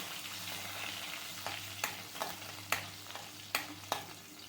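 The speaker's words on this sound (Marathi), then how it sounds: "आता हिरवी मिरची ही तळली" Green chilies frying in a pan with cumin seeds, a steady sizzle broken by several sharp spatula scrapes and knocks at irregular intervals, close and clear.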